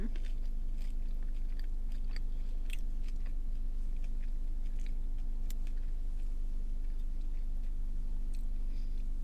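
Potato skins dipped in sour cream from Texas Roadhouse are chewed up close, with faint, soft crunches and mouth clicks over quiet background hum.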